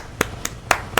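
Hands clap four times in a slow, uneven rhythm, each clap sharp, close and loud against a quiet background.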